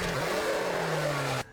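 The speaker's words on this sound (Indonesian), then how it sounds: "Sang Hun langsung menabraknya dengan mobil hingga Yu Jong tewas di tempat." A car engine revs hard as it accelerates to run a man down, a loud sustained mid-pitched roar with rising tone that cuts off abruptly near the end.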